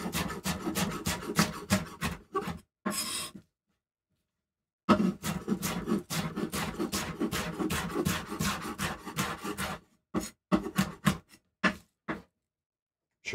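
A knife chops and slices onions steadily on a cutting board, rhythmic rasping strokes in bursts with a few short pauses between.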